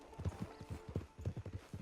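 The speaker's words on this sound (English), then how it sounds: "Get on the horse when you're ready." Horse hooves clip-clopping at a steady walking rhythm in the Red Dead Online video game, a series of close, evenly spaced thuds without any voices.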